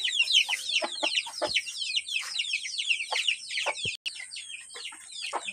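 Free-range village hens cluck in a simple backyard chicken coop, a dense, lively chorus of repeated close clucks and squawks from several birds continuing throughout.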